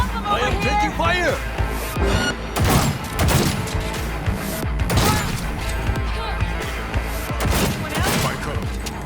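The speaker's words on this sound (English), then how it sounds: "I am taking fire." Gunfire in the video game Cyberpunk 2077, loud bursts of shots and impacts in irregular clusters across the scene, mixed with shouted game dialogue and music.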